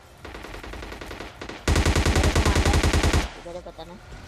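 Gunfire in the mobile game PUBG Mobile Lite comes in bursts: a rapid automatic volley, then a louder, closer run of evenly spaced shots, ending in a brief scattered tail.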